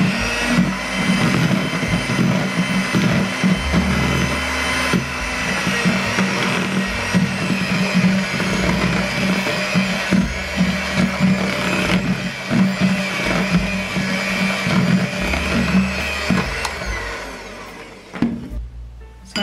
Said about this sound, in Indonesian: Kita mixer sebentar.